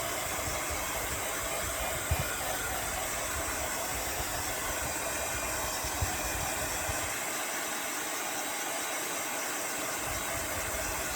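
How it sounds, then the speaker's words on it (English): A hair dryer blows steadily to dry a patriotic rub-on transfer, a continuous broadband whoosh held close and fairly loud throughout, with no talking. "So now we're going to dry this completely"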